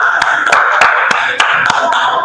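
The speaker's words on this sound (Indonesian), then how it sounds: "Beri tepuk tangan untuk Fani." Applause from a primary-school classroom: about seven or eight distinct, fairly loud claps in an uneven rhythm over a steady murmur of children's voices.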